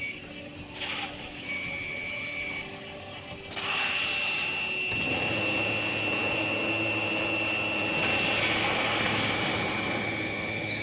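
Fighter jet engine in the video game Ace Combat Assault Horizon, a steady loud roaring whoosh that surges in intensity partway through and stays dense and continuous to the end.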